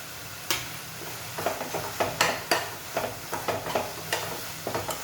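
A spoon stirs thick tomato chutney with peanut flour in a pan, giving repeated close scraping and clacking strokes in an irregular rhythm over a faint sizzle, with no talk.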